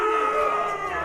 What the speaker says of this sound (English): We cannot let the crowd go wanting.